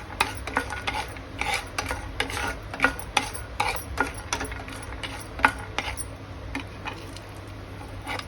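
Peanuts and chana dal fry in a pan for an Andhra dish, a light crackling sizzle under frequent rattling, scraping stirs that come in quick irregular bursts.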